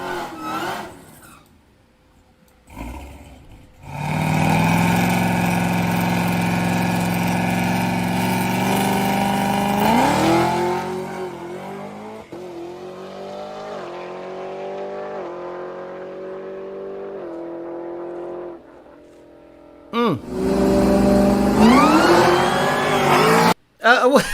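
A car engine revs hard in a played recording, a loud sustained roar that climbs and then winds down through falling tones before surging again near the end; no one speaks over it.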